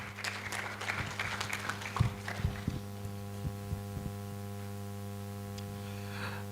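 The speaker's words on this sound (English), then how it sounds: "Let's welcome him with a hearty clap." A conference audience in Nairobi applauds, a brief ragged patter of claps that thins out over a few seconds, then fades into a steady electrical hum from the sound system.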